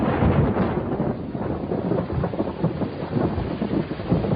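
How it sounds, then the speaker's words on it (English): Steady, dense radioactive rain hisses loudly throughout over Queensland, with low rumbling underneath that could be distant thunder or wind; no voices. "That day, radioactive rain fell throughout Queensland."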